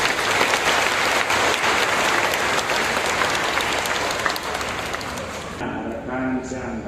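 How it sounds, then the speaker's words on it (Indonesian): A church congregation at a Mass of thanksgiving for a priest's ordination bursts into dense, sustained applause that fills the hall, then fades as a voice begins speaking near the end. "Kita beri tepuk tangan untuk kita."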